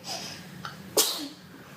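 A baby lets out a single small, sharp sneeze, close by, after a soft intake of breath.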